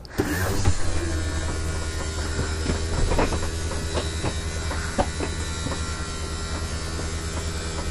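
The slide-out on a 2021 Heartland Mallard 251BH travel trailer extends with a steady electric motor hum and faint mechanical clicks and rattles. It runs at moderate level throughout, with no talk.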